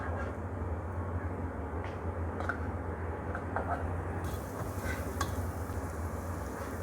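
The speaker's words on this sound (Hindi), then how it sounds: "बस 2-3 सेकंड के लिए इसको सौते करेंगे, और फिर बीच में प्याज ऐड कर लेंगे" Cumin sizzles in hot oil as onions are added for sautéing, a faint, steady frying hiss with a few soft stirring clicks in a home kitchen.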